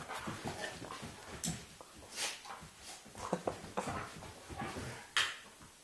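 A dog whimpers and shifts around at close range, with soft whines, sniffs and rustling movement coming in short bursts and a few louder bumps.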